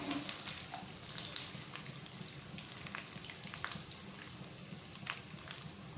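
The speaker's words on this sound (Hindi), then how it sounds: "सिर्फ 1 मिनट के लिए इनको फ्राई करना है, बहुत ज़्यादा फ्राई नहीं करना" Nuts and raisins frying in hot oil in a pan for a jaggery rice dish. A soft, even sizzle runs throughout with scattered tiny pops and crackles, faint and close, with no talking.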